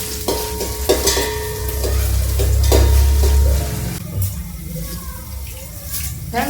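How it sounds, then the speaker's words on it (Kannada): Spices crackle and sizzle loudly in hot oil close up, with a few scraping stirs and clinks of a pan over the steady hiss. "ಎಣ್ಣೆ ಬಿಸಿ ಮಾಡಿಬಿಡ್ತೀನಿ ಈಗ ಒಗ್ಗರಣೆ ಹಾಕಂತ ಮಾಡಿ"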